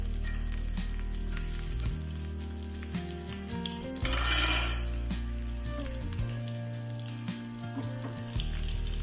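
Shallots, fenugreek seeds and curry leaves frying in a pan for bitter gourd theeyal, a continuous close sizzle with a brief louder hiss midway and low background hum, no voices.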